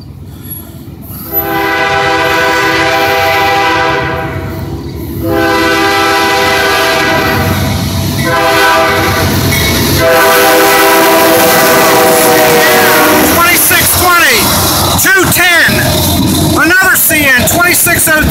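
A northbound ethanol freight train with four locomotives and a CN unit leading passes close, sounding long, loud horn blasts over rumbling engines, then steady wheel clatter and squeal as the cars roll by.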